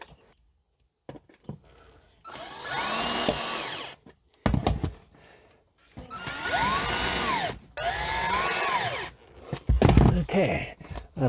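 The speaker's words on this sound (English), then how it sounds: "put screws in these to hold this front end down" A power drill drives screws into wood pieces holding down the front end of a plywood floor in a minivan camper build, whirring in several separate bursts with brief pauses and clatter between them.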